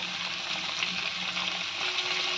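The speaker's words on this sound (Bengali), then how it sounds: "ডাঁটা লঙ্কা দিয়ে একটু ভেজে নেব।" Potatoes, vegetable stems and slit green chillies frying in oil in a pan, a steady close sizzle with faint stirring underneath and no voices.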